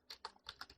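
Quick clatter of computer keyboard keys as C# code is typed, about six or seven close, crisp keystrokes in under a second, fairly quiet with no talking.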